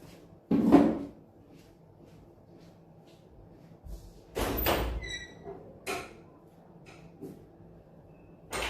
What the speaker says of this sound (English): Just opened up the door for some breeze